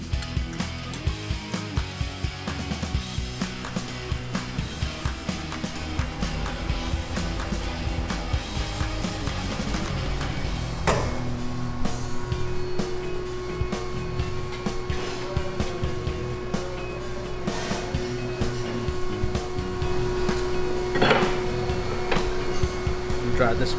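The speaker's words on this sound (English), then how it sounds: "time to wet blast these in 40 PSI with 120 aluminum oxide." A vapor honing machine wet blasting metal parts at 40 PSI with 120-grit aluminum oxide, a steady loud hissing spray with a constant mechanical hum running throughout, and a person talking over it.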